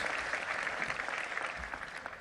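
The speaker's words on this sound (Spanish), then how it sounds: "Aplausos." An audience breaks into brief applause, a dense, even patter of clapping lasting about two seconds at moderate volume.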